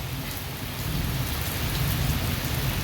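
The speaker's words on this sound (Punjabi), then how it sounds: "ਤਸਵੀਰਾਂ ਦੇਖ ਸਕਦੇ ਹੋ ਤੇਜ਼ ਬਾਰਿਸ਼ ਦੀਆਂ" Heavy monsoon rain pours down in a dense, steady roar that grows slightly louder partway through, with no voices.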